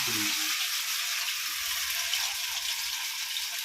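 Gold Winner oil sizzles in a hot pan while cauliflower pakoda is being prepared, giving a continuous, even hiss of frying with a brief low murmur at the start.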